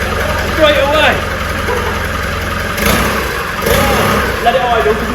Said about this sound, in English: Let it idle because we've got a new turbo.